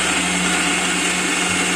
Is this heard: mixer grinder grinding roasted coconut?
yes